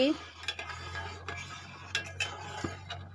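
Spoon stirring semai vermicelli cooking with milk and white cardamom in a metal pot, light scraping clinks and taps repeating irregularly over a low steady hum, no talking.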